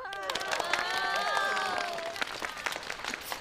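A classroom audience claps for a performer, a loud burst of clapping mixed with children's excited voices at the start, then thinning into scattered claps and chatter.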